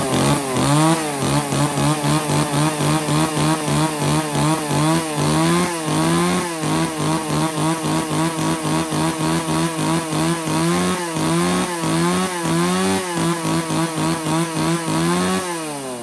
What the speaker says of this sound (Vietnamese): Một chiếc máy cưa Nhật bãi cực kỳ bền bỉ luôn.